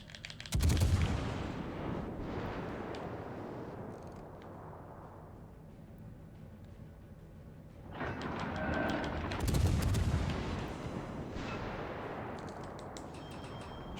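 Warship main guns firing high-explosive shells in a World of Warships Legends naval battle with a US Navy destroyer: two heavy booming salvos, one near the start and another about nine seconds later, each followed by a long rumbling tail.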